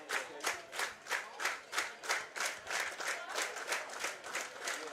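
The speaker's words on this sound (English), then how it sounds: "Madisonville fans starting to clap" Madisonville fans at a minor-league baseball game clap in a steady, rhythmic unison beat of roughly three claps per second, fairly loud crowd noise building in the stands with no talk over it.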